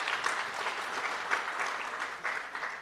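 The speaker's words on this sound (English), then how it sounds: "Let's give them a round of applause once again." An audience at a national parole review summit applauds in a dense, even clapping that holds steady throughout, fairly loud with no speech over it.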